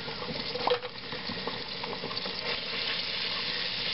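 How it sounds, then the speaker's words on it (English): Minced garlic sizzling in melted butter in a pan for Alfredo sauce, a steady close frying hiss with a brief stirring clink near the start. "That's the sizzle of the garlic."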